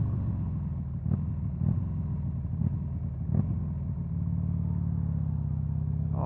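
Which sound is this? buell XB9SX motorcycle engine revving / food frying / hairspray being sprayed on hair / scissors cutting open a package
buell XB9SX motorcycle engine revving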